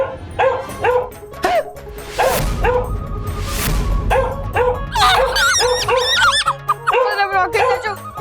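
Several dogs bark and yip in quick loud bursts on a Hindi fantasy TV show, the barks coming in uneven clusters with whimpers and a whoosh between them.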